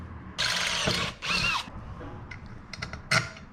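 A power drill whirs in two strong bursts, each about a second long, enlarging a bolt hole on a 1961 Chevrolet Parkwood wagon suspension, followed by quieter mechanical clicks and a brief final burst.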